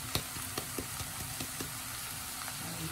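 Grated carrot and tomato stirred into cuscuz farofa in a pan, with a soft steady sizzle and several light scraping knocks from the stirring, close and without talk.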